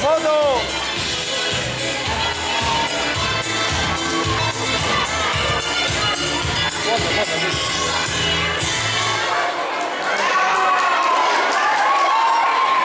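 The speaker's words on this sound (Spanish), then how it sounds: "Ese pedazo de aplauso" Crowd at a school Entroido carnival cheering, whooping and applauding loudly and continuously, with children's shouts and voices mixed in; the din thins slightly near the end.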